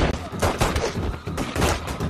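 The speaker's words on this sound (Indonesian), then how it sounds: "tiba-tiba dia mengambil pistol dan langsung menembak para pemberontak tersebut" A rapid volley of pistol gunshots, several loud cracks in quick succession with dense, echoing bursts filling the whole moment.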